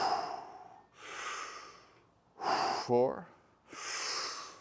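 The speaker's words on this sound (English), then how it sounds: "We're going to take 5 breaths" Deep Wim Hof method breaths: four long, loud, breathy inhales and exhales spaced about a second apart, close to the mic, with a short spoken count between them.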